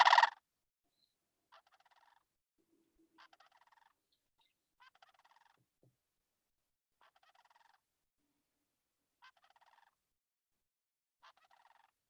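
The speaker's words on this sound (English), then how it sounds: "The sandhill crane." A sandhill crane's rolling, rattling bugle calls sound in a short series of separated bursts, fairly distant and faint, after a brief louder noise at the start; no talking.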